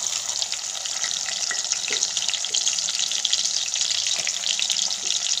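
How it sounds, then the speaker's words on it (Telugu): Onions frying in a pan with cumin, a steady, bright, hissing sizzle close up, continuous and even with faint stirring ticks. "ఉల్లిగడ్డ వేసి మంచిగా వేయించుకోవాలి।"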